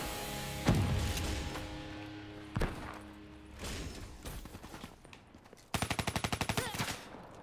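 Weapons fire in the Black Ops 3 video game during a hardcore free-for-all match: a few sharp isolated shots followed by a rapid burst of automatic fire near the end, with no voices over it.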